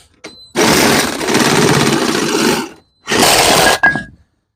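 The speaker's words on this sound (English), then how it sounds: "use the old Sawzall. It works." A Sawzall reciprocating saw cutting through the exhaust pipe of a 2005 Toyota Camry, with two loud bursts of harsh, rapid buzzing grinding, about two seconds and then under a second, separated by a short silence.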